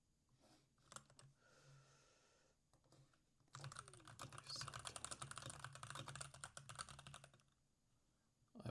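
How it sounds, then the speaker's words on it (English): Rapid clattering keystrokes on a mechanical keyboard, close and crisp, coming in a dense burst of typing after a few scattered clicks, with a quiet room hum behind. "I hope the keyboard sound is not too much. I'm using a mechanical keyboard"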